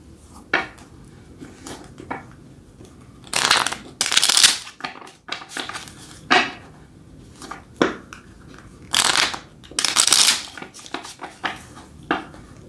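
Tarot cards shuffled on a small, cramped table, in repeated bursts of crisp riffling and slapping with short pauses between them, close and fairly loud with no talk.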